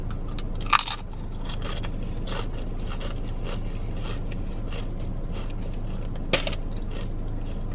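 Crunchy Doritos chips being bitten and chewed close up during a Subway sandwich meal, with two sharp crunches and quieter chewing and rustling between them, no talk.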